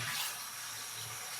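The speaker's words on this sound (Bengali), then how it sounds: "শাকও ধুয়ে রাখছি।" Tap water runs steadily over leafy greens being rinsed in a home kitchen, a brief, even splashing rush at moderate level with no voices.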